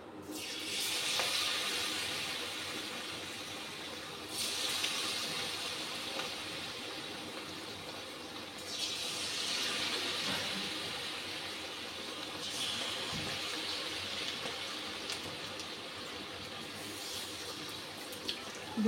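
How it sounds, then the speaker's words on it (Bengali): Capsicum pieces hit hot oil in a pan and sizzle in a steady, close hiss, with the spitting swelling in several louder surges as more pieces are added. "তেলটা গরম হয়ে গেছে, এখন ক্যাপসিকামগুলি দিয়ে দিচ্ছি"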